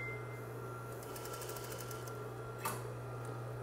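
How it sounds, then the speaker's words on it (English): Sewing machine stitching around the sides of a flatlined fabric piece, a faint, even run of rapid stitching ticks over a steady electrical hum, with one brief louder clunk near the end. "I've sewn all of the sides of my piece"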